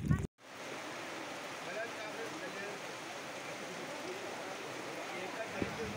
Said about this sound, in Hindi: बहुत ज़ोर से पानी गिर रहा है गाइस, बहुत ज़ोर से।